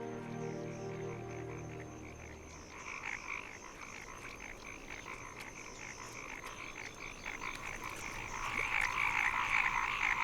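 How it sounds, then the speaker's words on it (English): Male paddy frogs call from wetland meadows at dusk, a dense, continuous chorus of rapid croaks layered from near and far, steady and swelling slightly louder toward the end, with no voices. "Male paddy frogs call out to attract a nearby female"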